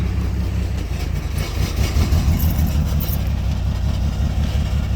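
A truck engine bogs down, rumbling low and loaded, struggling with a deep throaty exhaust drone that stays steady and close throughout.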